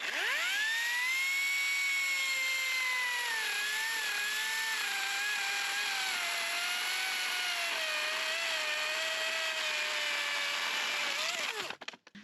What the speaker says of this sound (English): So let's see if I can get this blade on, and I'll see you soon, hopefully with a working chainsaw.